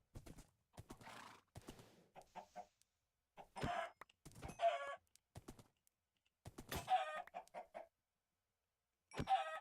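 Blocky video-game chickens cluck in short, scattered bursts amid in-game horse hoof clip-clops and a whinny, moderately close, during a hardcore survival playthrough, with no talk.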